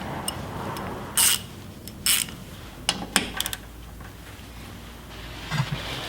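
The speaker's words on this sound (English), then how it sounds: "We're also going to need to remove the sway bar bolts right here. Those are 15mm" Hand ratchet clicks and metallic clanks sound intermittently as 15mm sway bar bolts are loosened on a Jeep XJ, short sharp bursts over a low background hum.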